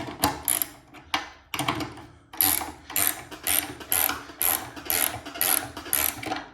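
A 14 millimeter wrench ratchets in quick repeated clicking bursts while bolts are tightened down during assembly of a Juki DDL-8700 industrial sewing machine. The strokes are close and loud, in an even rhythm, with no talk.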